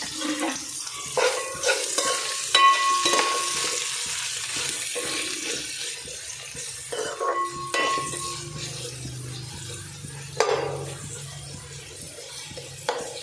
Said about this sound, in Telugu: ఇప్పుడు మనం కట్ చేసి ఉంచుకున్న ఆనియన్, పచ్చిమిర్చి వేసి ఫ్రై చేసుకోవాలి.